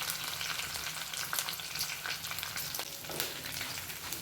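Dried red chillies, curry leaves and onion frying in a pan, producing a continuous close crackling sizzle with some stirring noise underneath, no talking.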